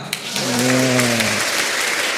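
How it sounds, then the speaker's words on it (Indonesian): A church congregation applauds the choir at a parish anniversary Mass with confirmation: a steady wash of clapping hands throughout, with a brief sustained voice or cheer rising over it early on. "Saya ingin mengajak Anda semua memberi tepuk tangan yang meriah untuk kur kita"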